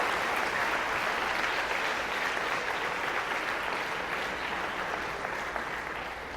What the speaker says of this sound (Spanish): Damos unas palmas al Señor